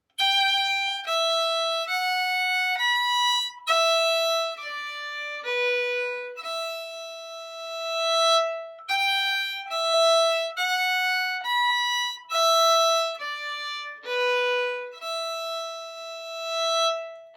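A solo fiddle plays Molly Rankin's, a Cape Breton reel, as a quick, continuous run of bowed notes with lively, steady rhythm, close and clear with no speech.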